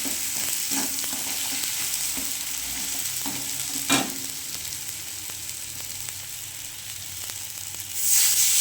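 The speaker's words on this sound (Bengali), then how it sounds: "মশলাগুলো সব দিয়ে দিয়েছি, একটুখানি কষিয়ে নেবো" Fish and ground spices sautéing in a pan, a soft steady sizzle broken by a few stirring scrapes and one sharper clank, ending in a louder burst of frying, close by and without speech.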